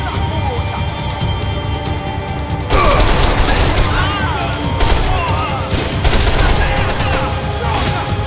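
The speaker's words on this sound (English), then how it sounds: "Stop shooting at me!" Max Payne 3 gunfire rattles in sustained rapid bursts with sharp individual cracks over a constant loud background of action noise.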